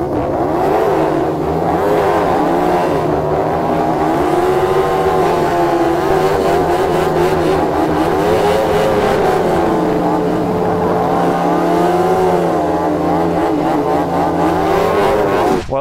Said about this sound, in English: It'd be great to see some burnouts to end the video.